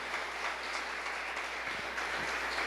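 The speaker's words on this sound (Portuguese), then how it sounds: "Vamos aplaudir o Senhor Jesus," A church congregation applauds in a steady, unbroken wash of clapping that stays fairly soft and even throughout, with no clear voices over it.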